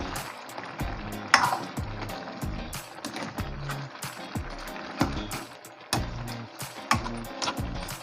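A pan of ginataang langka with crab being stirred as it fries, with a continuous sizzle broken by repeated scraping and knocking of the utensil against the pan in an uneven rhythm, close up and without speech.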